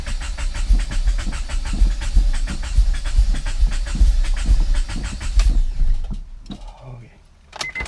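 A turbocharged Honda Prelude engine just after starting, running with a rough, pulsing low rumble and rhythmic clatter for about six seconds before dropping away, followed by faint clicks and brief talk.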